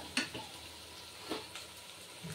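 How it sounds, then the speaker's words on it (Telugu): Goat tripe fries in oil with ginger and garlic for a gongura tripe curry, giving a faint, soft sizzle with a few sharp utensil clinks and scrapes. "మంచిగా నూనె అల్లం వెల్లిగడ్డలా మంచిగా వేగాల బోటి."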